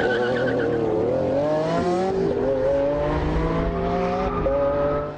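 A Lamborghini Aventador with a 700 horsepower 6.5-litre V12 and four-wheel drive drag races a McLaren 650S Spider at Edinburgh Airport, engines droning loudly and steadily with shifting revs and tire noise throughout, no talk.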